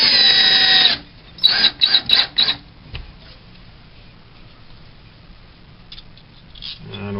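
A power drill drives screws through L-clips into a wall stud while a closet shelving system is installed, giving one loud sustained whir followed by several short bursts, then quiet room tone.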